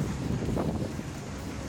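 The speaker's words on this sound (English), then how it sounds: "It's too windy." Steady wind buffets the microphone with low, rumbling gusts that swell around the middle, continuous and fairly loud with no voices.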